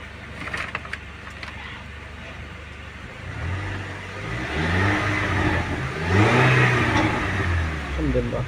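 The engine of a Range Rover, already warmed up, revs as the accelerator is pressed fully to the floor. It rises from a steady hum into a loud, swelling roar and holds that roar near the microphone.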